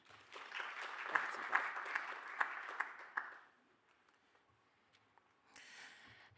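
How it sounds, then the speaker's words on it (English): An audience claps for a conference panel and its moderator, a dense burst of applause lasting about three seconds before it fades into a quiet room. A faint second patter of clapping rises briefly near the end. "please give our panel and moderator a round of applause"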